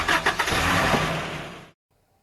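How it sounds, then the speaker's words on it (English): A big cargo truck engine starting, with a few cranking chugs and then a loud rough running rumble, which cuts off abruptly into silence. "Yeah, it's like a big cargo truck"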